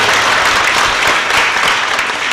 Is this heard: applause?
yes